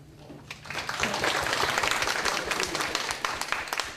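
Audience applause at an I-73 public forum, a crowd clapping steadily and fairly loudly for several seconds after a fade in.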